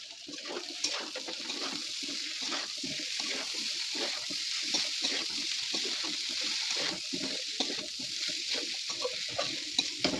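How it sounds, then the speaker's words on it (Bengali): Vegetable chow mein noodles stir-fried in a pan, giving a steady, close sizzle with frequent scraping and tossing sounds from the utensil throughout, fairly constant in level with no talking. "এবার চাউমিনটা পড়বে"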